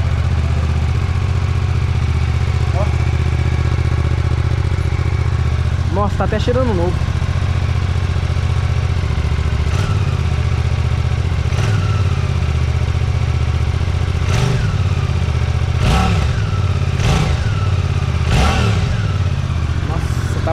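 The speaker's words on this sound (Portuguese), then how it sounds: "vamos ligar essa moto aqui para conhecer o ronco desse motor" A Suzuki GSX-8S motorcycle engine idles loudly and close up, with a series of sharp revving bursts that grow more frequent toward the end, while someone talks over it.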